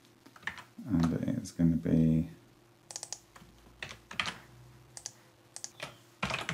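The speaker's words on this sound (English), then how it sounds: "I'll type customer" Typing on a computer keyboard while entering text into a SharePoint and Power Automate editor, with bursts of quick clicking keystrokes scattered through the clip, partly under a voice talking.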